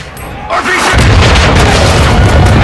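An RPG explosion in the video game Call of Duty Modern Warfare 2 lands as a loud, heavy boom that rumbles on through the rest of the moment after a short quieter lead-in.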